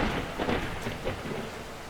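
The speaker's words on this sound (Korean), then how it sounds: "천둥 번개와 함께 양동이로 물을 쏟아붓듯 폭우가 쏟아져 내렸다." Heavy downpour with thunder in a radio drama scene, a dense steady roar of rain with low rumbling swells rising and falling, moderately loud and continuous without any voices.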